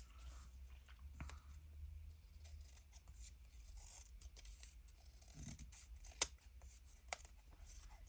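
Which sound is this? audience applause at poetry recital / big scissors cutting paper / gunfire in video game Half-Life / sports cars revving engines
big scissors cutting paper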